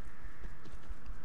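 Horse hooves clip-clopping in the online RvR MMORPG Champions of Regnum: a quick, even run of soft hoof beats over a low steady background.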